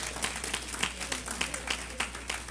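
Church congregation applauding during a worship service, a steady mass of hand claps with brief louder bursts, moderately close and continuous.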